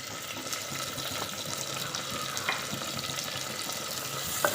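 Tomatoes and green chillies sizzle steadily in a hot pan while being stirred, a close, continuous frying hiss with faint scraping and a small knock at the end.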